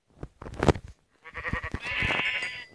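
A sheep bleats nearby, two short calls followed by a longer wavering bleat, loud and clear with no talk over it.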